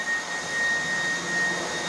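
Cordless vacuum cleaner running during a MOOSOO versus Dreametech high-power battery comparison: a steady, even motor roar with a thin high whine held throughout, close and continuous with no talk.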